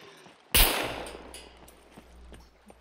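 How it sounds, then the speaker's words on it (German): A single sharp, loud gunshot cracks in the survival video game SCUM, followed by a short decaying echo over quiet game ambience. "Ein Schuss."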